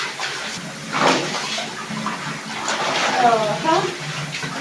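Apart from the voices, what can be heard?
rinsing cross stitch pieces in water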